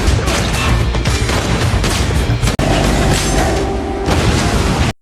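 Gunfire in a film action scene where a shootout with Russian mafia men leaves three dead from a single shot. It is a loud, continuous barrage of booming blasts, with a brief break midway and an abrupt cutoff at the end.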